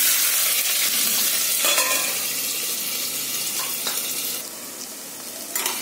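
Onion frying in oil with mustard seeds, cumin and curry leaves for upma: a steady, close hiss of sizzling with occasional stirring clatter, easing slightly toward the end, no talking.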